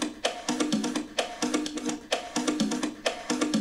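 House music track with reverb switched on, a steady looping groove of punchy repeated hits and chords with a bigger, washed room tail, playing alone without speech.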